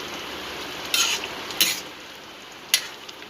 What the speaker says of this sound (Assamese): মাংসটো অকণমান লাৰি দিলোঁ।